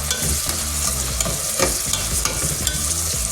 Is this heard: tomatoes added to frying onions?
yes